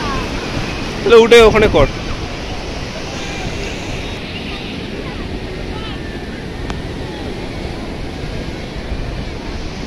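Sea waves on Puri beach wash in and recede as a constant broad roar with wind buffeting the microphone, while a voice briefly speaks close by near the start.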